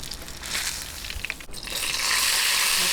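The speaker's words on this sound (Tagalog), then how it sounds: "tapusin lang po natin ang pagpiprito" Milkfish (bangus) pieces frying golden brown in oil in a pan, giving a steady crackling sizzle with brief scraping bursts, growing denser and louder toward the end.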